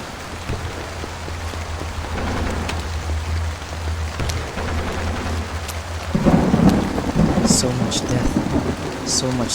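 Steady heavy rain pours down with rumbling thunder in the video game Portrait of a Torn, a dense continuous hiss that swells louder partway through, with no voices.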